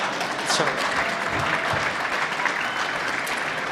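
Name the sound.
audience applause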